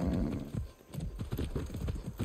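Horse hooves clip-clopping in the video game Far Cry 6, a quick run of close, clear hoof beats at a steady trotting rhythm, with no talk.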